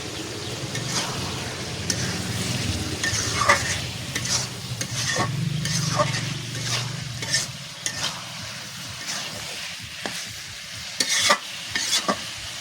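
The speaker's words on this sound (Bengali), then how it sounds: "এভাবে রেখে দিব কতক্ষণ কষানোর জন্য।" Chicken pieces braising with spice masala and a little water in a pan, giving a steady close sizzle with repeated scraping stirs and spoon knocks throughout, no talking.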